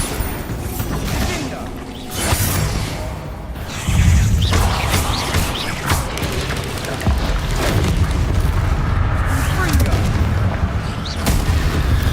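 Explosive blasts from the Bombarda spell in the Hogwarts Legacy video game, loud booming bursts over a dense battle din of clashing effects, with voices in the mix.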